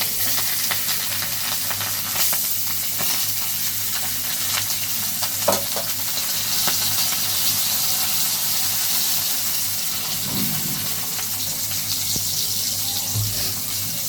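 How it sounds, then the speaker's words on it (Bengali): A fish head frying in hot oil gives a steady, loud, crackling sizzle that carries on throughout, with a few faint knocks from the pan. "এখন মাথাটা ভেজে নিব"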